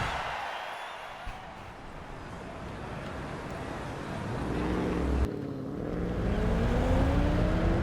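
Bentley Flying Spur engine in Forza Horizon 5, a steady drone that swells as the car accelerates, its pitch climbing and holding loud toward the end, with a brief dip midway.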